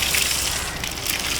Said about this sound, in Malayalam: കടുവ അടിപൊളിയായിട്ട് പൊട്ടി വരികയാണ്.